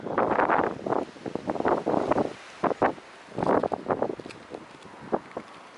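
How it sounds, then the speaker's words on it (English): Strong, gusty wind blows outdoors on the Isle of Wight, buffeting the microphone in uneven roaring bursts that rise and drop repeatedly, loud and close. "God, it's so windy."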